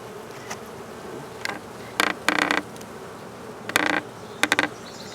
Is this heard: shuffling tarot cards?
no